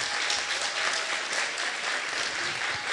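Audience applause at the close of a theatre play, a steady, dense wash of clapping from many hands that holds evenly at moderate volume throughout.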